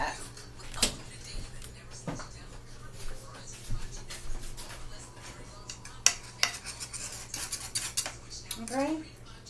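A spoon clinks and scrapes against a pan while seasoning is stirred into Salisbury steak gravy, quiet, irregular metallic taps and rubs at close range, with someone talking softly.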